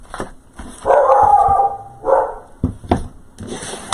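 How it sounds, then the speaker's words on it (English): A dog barks repeatedly nearby in an irregular series of sharp, loud barks, some drawn out, with no one talking. "my dog's barking at something"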